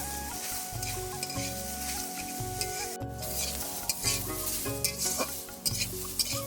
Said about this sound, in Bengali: শাক ভাজাটা মাঝে মাঝে নেড়ে দেবো যাতে লেগে না যায়